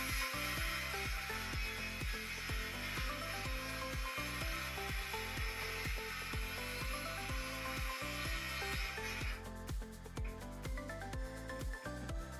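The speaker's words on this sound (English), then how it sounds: "I had to make a plunge cut and drop the saw in" Circular saw run along a track guide, plunging into a wooden panel for an inside cut: a steady, loud motor whine with grinding blade noise throughout, its pitch shifting as the blade drops in and bites the wood.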